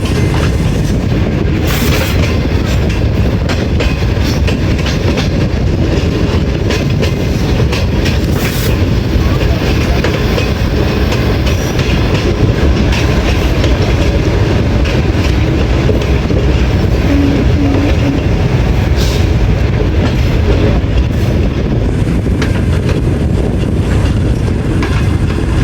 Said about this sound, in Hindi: नूर जंक्शन से ट्रेन हमारी भी पास होगी, वो मैं आपको दिखाता हूँ।